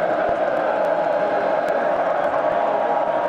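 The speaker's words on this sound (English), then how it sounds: "Crowd getting on its feet and going crazy again here." Football stadium crowd at a 2002 Texas Tech versus Texas A&M game rising to its feet, a dense, loud, sustained roar of cheering with faint whoops, no clear voice over it.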